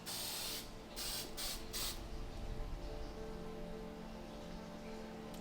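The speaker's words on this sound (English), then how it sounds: "Spray the container good with the Prevenamite." Several close bursts of Prevenamite mite spray hiss onto a snake's plastic tub in quick succession over the first two seconds, then fade, leaving a steady low room hum.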